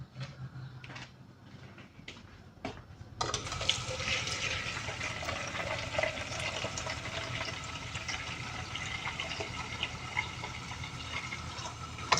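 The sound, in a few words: water poured into pot of arroz caldo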